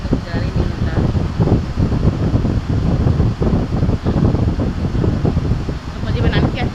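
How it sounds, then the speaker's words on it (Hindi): Household air cooler running in a kitchen during hot weather, a steady broad whooshing hum of fan and moving air that stays constant throughout, with some background activity layered over it. "कूलर की आवाज़ आ रही होगी क्योंकि कूलर चल रहा है"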